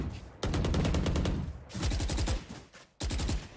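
Rapid bursts of gunfire from shotguns and pistols in a Valorant esports match, three dense volleys of quick rattling shots separated by short pauses, close and loud.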